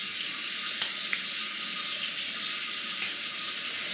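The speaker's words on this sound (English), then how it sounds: "As I'm rinsing through the skin" Water runs steadily from a tap while skin is rinsed after a shave, a continuous bright hiss with a few faint clicks and no talking.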